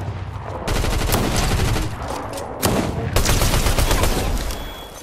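Rapid gunfire aimed at the player in Fortnite, a dense, loud crackling barrage of shots running almost continuously with brief gaps.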